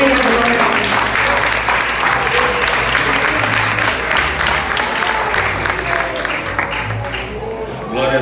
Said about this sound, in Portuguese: Só uma salva de palmas para o Senhor